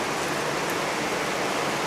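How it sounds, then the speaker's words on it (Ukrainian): Heavy afternoon rain in Vietnam pours steadily as a dense, even hiss with no break, loud and close throughout, with no voices. "Після обіду пішов дощ, але сьогодні набагато сильніший, ніж був вчора."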